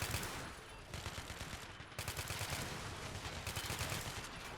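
Rapid automatic gunfire rattles in a video game battle, dense bursts of shots crackling in quick succession, loud and close with brief gaps.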